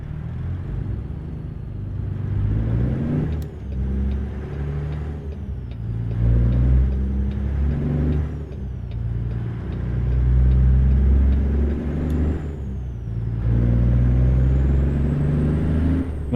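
Diesel engine of an older Kenworth LW logging truck in a trucking video game, a steady loud low rumble that surges with revs and gear changes, with a sharp hiss of air brakes partway through; no one talks.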